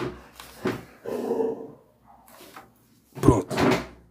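A dog lunging after a cat indoors: bursts of scuffling and thumping knocks in short irregular clusters, with a brief quiet gap between louder rushes near the end, close by and fairly loud with no talking.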